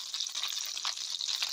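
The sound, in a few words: food sizzling in a hot pan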